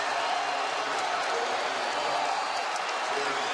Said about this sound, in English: This crowd has been loud and fired up